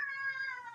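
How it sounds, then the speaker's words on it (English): A house cat lets out a single drawn-out, yelling meow close by, loud and tonal, sliding slightly downward in pitch as it ends. "Who's yelling? That's our cat."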